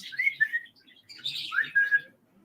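A pet bird whistles and chirps at close range in a quiet room, with two bursts of bright, warbling whistles separated by a short pause.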